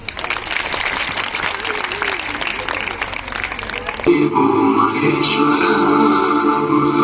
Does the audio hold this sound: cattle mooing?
no